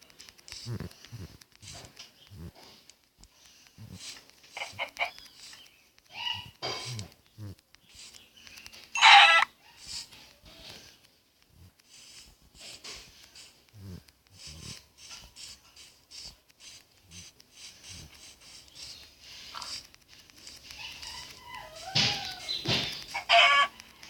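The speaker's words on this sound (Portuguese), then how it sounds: "Galinha, vou matar a galinha aqui para ter XP." Video game chickens cluck in short, scattered bursts with occasional louder squawks, fairly close, while a person talks intermittently over them.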